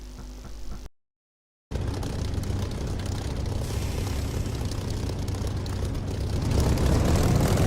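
Aircraft engine in the DCS flight simulator game, rolling for takeoff: a steady, moderately loud engine roar that builds slightly toward the end after a brief silent gap near the start.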